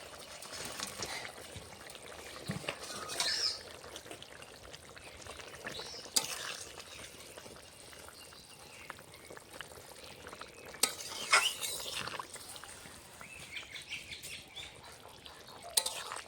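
Fried bata fish slid into a simmering curry of potato, cauliflower and beans, giving soft sustained bubbling with faint stirring scrapes and a few small clinks, quiet and close, without voices.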